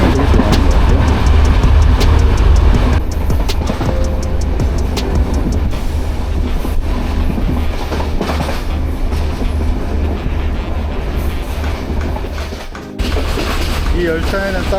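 A train between Colombo and Anuradhapura, Sri Lanka, rumbles steadily along with a low, continuous roar and rhythmic rattling of the cars, loud and close, as if heard from on board.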